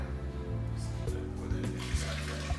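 Water is poured into a kitchen mixer bowl after milk while making crepe batter, a continuous close trickling pour over a steady low hum.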